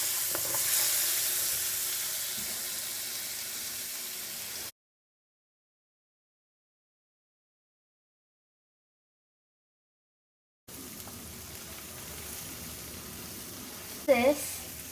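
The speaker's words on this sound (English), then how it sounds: "Stir them all together until the tomato sauce thickens." Thickening tomato sauce for butter chicken sizzles in the pan while it is stirred. The faint frying hiss is interrupted by a stretch of silence, then resumes with a brief scrape near the end.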